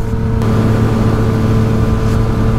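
A motorcycle rides through rainy weather, its engine droning in a loud, steady rumble that holds constant with no pauses.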